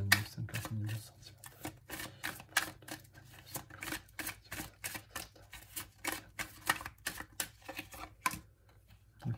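Tarot cards being shuffled at close range, a steady run of crisp riffling snaps and flutters repeating through the whole stretch, with no talking.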